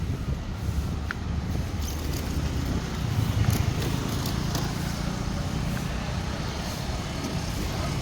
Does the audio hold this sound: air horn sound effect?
no